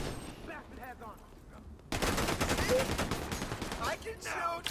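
Rapid automatic gunfire in a video game rattles in dense continuous bursts after a quieter opening, loud and close, with a voice speaking faintly at the start.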